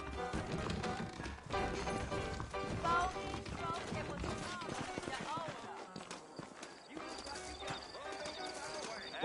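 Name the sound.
horses clip-clopping in Red Dead Redemption video game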